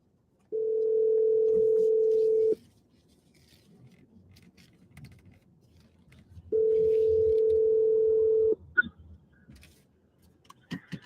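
A phone call goes unanswered as two steady ringback tones sound, each lasting about two seconds with a long silent gap between them, followed by faint handling noises.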